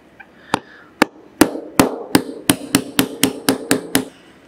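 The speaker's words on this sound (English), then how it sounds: "taking a pin punch and hammer, tapping this pin out." A hammer strikes a pin punch to tap a pin out of a pneumatic valve actuator, giving about a dozen sharp metallic taps, close and loud, speeding up into a steady rhythm.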